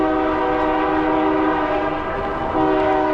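Loud freight train horn blaring steadily close by on the CN Graham Subdivision, a rich multi-note chord sustained throughout with rail rumble beneath and a brief dip near the end.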